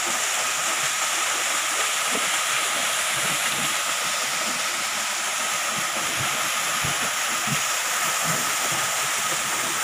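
A Talon-Talonan waterfall pours in a steady, loud broadband rush that holds unbroken throughout, with faint low knocks and rustles beneath it.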